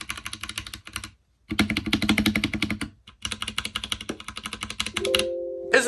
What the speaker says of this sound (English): This is actually the Unpro 2. This thing is just, it's so satisfying.